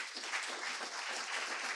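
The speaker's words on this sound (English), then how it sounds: "Can we have a big round of applause for Hélène?" Audience applause at a FinTech North conference session in Newcastle, a steady dense wash of clapping from a crowd filling the whole short stretch at moderate level.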